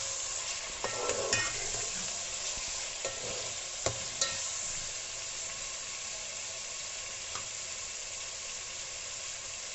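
Garlic ginger paste sizzles steadily in a hot pan while a spoon stirs it, with a continuous hiss of frying and occasional scraping clicks, close and fairly loud.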